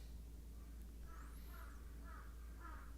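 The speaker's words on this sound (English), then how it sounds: "there's crows outside and the cats are staring at them" Crows cawing outside in Japan, four hoarse calls spaced about half a second apart, faint and distant over a steady low hum; one thin higher whistle rises and falls between them.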